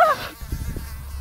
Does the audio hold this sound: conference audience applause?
no